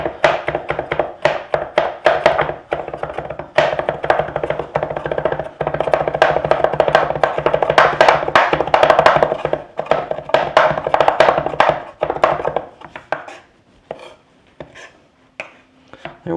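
A knife chops garlic into a coarse mince on a cutting board, a fast run of sharp, close knocks lasting most of the stretch before slowing and fading out near the end.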